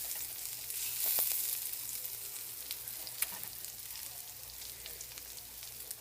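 Fish puppies fry in hot oil with a steady crackling sizzle, broken by a few sharper pops and spits, and no one speaks.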